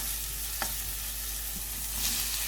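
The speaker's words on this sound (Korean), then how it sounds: "예열된 팬에 식용유 두 스푼을 넣고 마늘 한 스푼을 넣어서 중약불에서 볶아줍니다" Garlic stir-fries in two spoons of cooking oil in a preheated pan over medium-low heat, a soft, constant sizzle with a few faint spatula taps and no voices.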